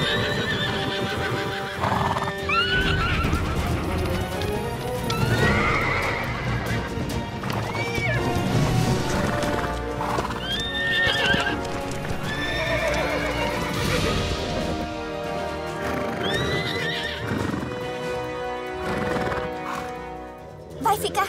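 A mare neighs and whinnies repeatedly while hooves clip-clop steadily close by, and people speak in Portuguese over the restless horse sounds.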